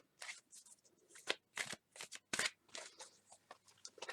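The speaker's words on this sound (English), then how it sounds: "Because I know people like to see me shuffle" Tarot cards being shuffled by hand, a quick series of crisp riffling bursts separated by short gaps, close and clear with no talking.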